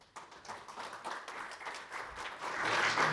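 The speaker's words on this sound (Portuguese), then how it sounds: "Um aplauso." Audience applause at an entrepreneurship awards ceremony in Lisbon as a presenter is called to the stage, a moderately faint, continuous crowd clapping that swells toward the end.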